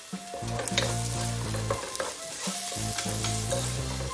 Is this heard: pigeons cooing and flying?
no